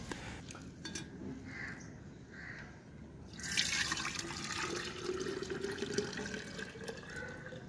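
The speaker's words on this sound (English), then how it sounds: "mix the soaked beans lightly and strain the liquid." Water poured off soaked mung beans through a strainer, a soft trickling and dripping that swells into a steadier flow midway, with faint clinks of a container.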